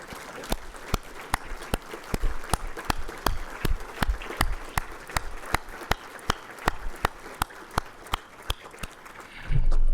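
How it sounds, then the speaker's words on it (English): At an alumni luncheon, regular sharp claps ring out in an even rhythm, more like one person clapping or steady slaps than a full crowd, over a low room murmur. "Please join me for a round of applause for all our award recipients"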